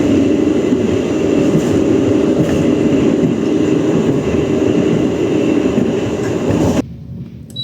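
KA Lodaya passenger train running at night, a steady loud rumble of wheels and carriage noise that continues unbroken before dropping off abruptly near the end.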